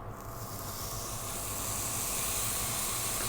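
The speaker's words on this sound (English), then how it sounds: "We're gonna get our steak and we're gonna drop it in." T-bone steak dropped into a hot ribbed skillet, a steady close broadband sizzle that swells slightly and holds, with a low rumble underneath and no voices.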